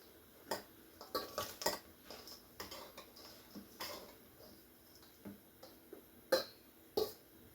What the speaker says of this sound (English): let's just go ahead and kind of mix it all around, get everything mixed up